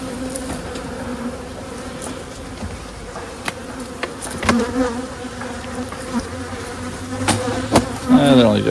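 Honey bees buzz around beehive frames in loud, close, overlapping drones, with individual insects whining past and rising swells of buzzing near the end.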